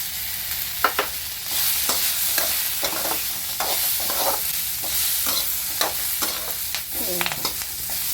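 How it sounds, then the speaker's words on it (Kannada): Curry leaves fry and sizzle in hot oil for an eggplant curry, a continuous crackling hiss broken by repeated scraping stirs of a spoon in the pan, close and unaccompanied by voices. "ಕರಿಬೇವು ಹಾಕಿ ಹುರ್ಕೋಬೇಕು"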